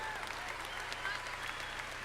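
Applause at a high school commencement ceremony honoring the grad night organizers, a steady wash of clapping from a large crowd filling the hall, continuous and even throughout.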